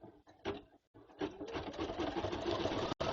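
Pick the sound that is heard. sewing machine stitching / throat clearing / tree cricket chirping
sewing machine stitching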